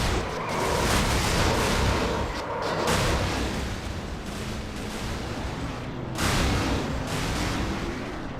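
Racing video game crash during an NNSCRA stock car race at the Subway 500: a steady, loud roar of engines with rumbling impact noise swelling and fading, dense and continuous with no talk over it.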